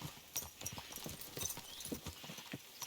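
Horse hooves clip-clop in Kingdom Come: Deliverance 2, a steady walking rhythm of moderate, close hoofbeats with faint ambient background and no talk.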